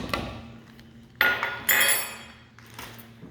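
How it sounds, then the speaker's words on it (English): Brown sugar being mixed into flour in a bowl for blueberry muffins, heard as a few close clinks and knocks of a utensil against the bowl. Two louder bursts of scraping stand out against quiet gaps. "Mix the brown sugar into the flour."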